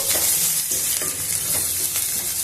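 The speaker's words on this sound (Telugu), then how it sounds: "ఆలు ముక్కలు కూడా కొద్దిసేపు నూనెలో వేయించుకుంటే బాగుంటుంది" Potato pieces fry in hot oil for a palak aloo masala curry, giving a loud, close, continuous sizzle broken by a few rhythmic stirring scrapes.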